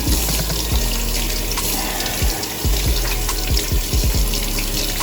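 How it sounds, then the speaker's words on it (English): A bathroom tap runs steadily into a sink during handwashing, a loud close hiss of water with small splashes and gurgles as hands move under the stream, and no talk. "Wash your hands for 20 seconds, right?"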